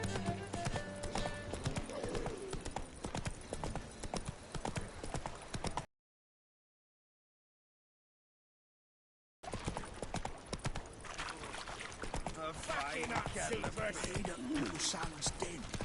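Roach the horse gallops in The Witcher 3, with loud rapid hoofbeats drumming steadily, then a few seconds of total silence before the galloping resumes amid other game sounds.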